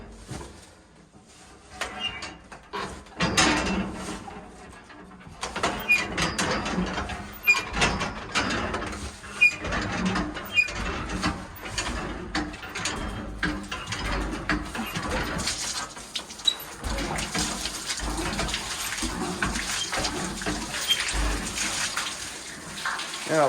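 An old hand-operated water well pump at an abandoned barn is worked by hand, with creaking mechanical clanks and irregular splashing, gushing water, moderately close and without talk.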